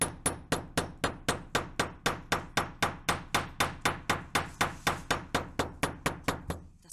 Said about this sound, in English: I'm gonna leave texture by using my brass hammer